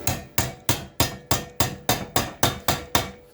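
A wrench hammers a piece of poor-quality steel flat on a TIG welding bench, ringing out as about ten sharp, evenly spaced metallic strikes, close and loud, with no talk.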